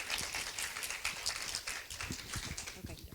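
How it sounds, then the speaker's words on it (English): Audience applause at a stroke rehabilitation lecture, a dense steady patter of many hands clapping across the room, with some voices mixed in. "please give a big applause again"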